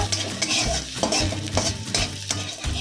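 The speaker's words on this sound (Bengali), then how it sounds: "এবার ওই তেলটার মধ্যে প্রথমে রসুন কুচি, তারপরে আদা কুচি, এটাকে একটু নেড়ে নেব" Chopped garlic and ginger stirred in hot oil in a wok: rhythmic scraping strokes about twice a second over a continuous frying sizzle, close and fairly loud.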